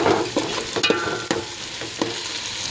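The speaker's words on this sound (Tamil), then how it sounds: "தக்காளியை மட்டும் கொத்தி விடுங்க, முந்திரி கொத்தி விடுங்க." Tomatoes and cashews frying in a pan for veg biryani, with a steady sizzle broken by several sharp scrapes and clinks of a spoon stirring, close and fairly loud with no talking.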